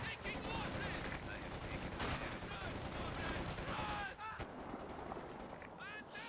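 Machine gun fire in the strategy game Company of Heroes 2 crackles in dense rapid bursts amid a busy battle mix of other gunfire, with a commentator's voice running over it throughout.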